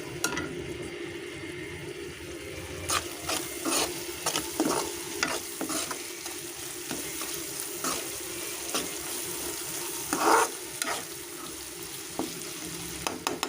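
Curry leaves frying in oil for a shark fish fry crackle and sizzle steadily at low level, with repeated stirring scrapes and occasional sharper pops, close and unaccompanied by speech.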